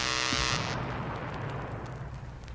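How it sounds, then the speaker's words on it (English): A laser blast sets off a booby-trapped door in a 1976 space audio drama: a bright electronic whine cuts off into a sustained rumbling explosion that slowly fades. "I'm going to fire my laser at it."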